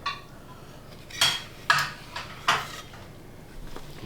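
A small plate and other dishes are set down and shuffled, giving four or five sharp, close clatters and clinks spaced apart against a quiet room with no talking.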